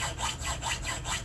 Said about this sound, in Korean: 줄질을 합니다.